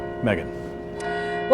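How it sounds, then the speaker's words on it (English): Church bells at Cincinnati Church Cathedral ring with a sustained, ringing tone beneath a reporter's brief speech during an outdoor live news report. "you can hear the church bells ringing right now."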